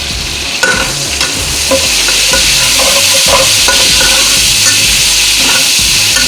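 Curry leaves fry over low heat in a pan with a loud, steady sizzle and crackle, broken by a few scraping stirs.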